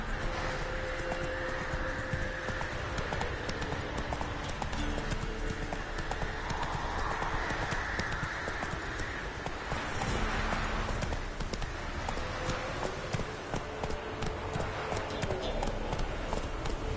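Roach, Geralt's horse in The Witcher 3, clip-clops at a steady walking rhythm throughout, hoofbeats close and clear over a constant game ambience with a faint voice now and then.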